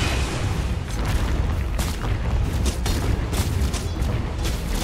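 Heavy rumbling impacts and explosive booms from a Dota 2 middle tower under attack and collapsing, with dense crackling hits layered over a continuous low roar.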